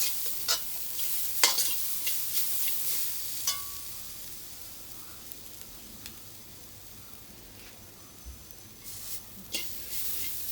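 Jackfruit seed paste sautés in oil, a soft sizzle underneath occasional sharp scrapes and taps of a spoon against the pan, fairly quiet and close, with no talking.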